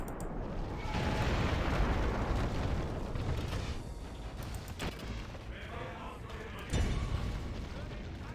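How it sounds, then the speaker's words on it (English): Artillery in the Total War 1942 video game shelling a building in Berlin, dense rumbling booms and blasts rolling continuously, loud and close, with a few sharper cracks standing out. "So now they are shooting at the building behind it"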